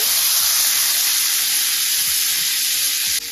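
Dark soy sauce hitting caramelized onions in a hot pan, a loud, steady hissing sizzle with a few soft scraping stirs underneath, continuous throughout.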